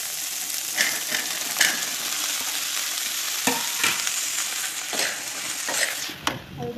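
Pointed gourd and potatoes fry in a pan with lentils, giving a steady close hiss and sizzle interrupted by scraping stirs and occasional clatters from the utensil.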